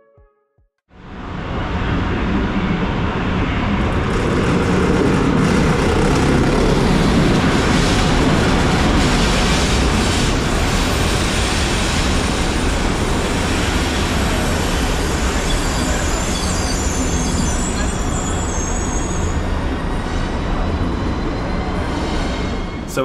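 The AKE Rheingold special train, hauled by E03 001 electric locomotive, pulls into Cologne main station with a loud, sustained rumble of rolling cars and rail noise that swells in and continues steadily throughout, with no talk.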